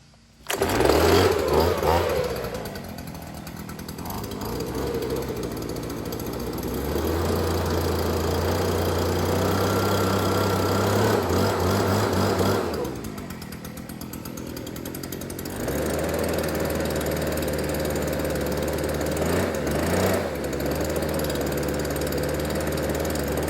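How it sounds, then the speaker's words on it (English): An engine-driven leaf blower runs outdoors with a loud, steady motor drone that swells and dips in pitch as it is revved and eased off, continuing throughout near the listener. "So I need to grab the blower."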